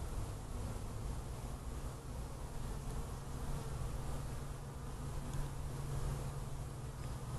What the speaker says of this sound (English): are the scout bees returning